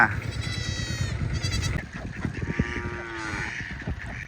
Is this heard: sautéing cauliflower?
no